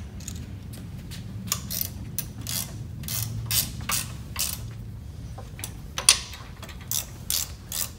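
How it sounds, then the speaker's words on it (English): A ratchet wrench tightens bolts on a Mud Buddy motor during belt tensioning, a series of close clicking ratchet strokes in bursts with short pauses. "I'm gonna go ahead and start tightening everything up again"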